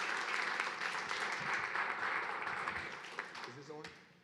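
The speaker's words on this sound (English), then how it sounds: "Let's give another applause to Senator Hearcel Craig." A town hall audience applauds a state senator in a steady wash of many clapping hands that gradually tapers off, with a few voices near the end.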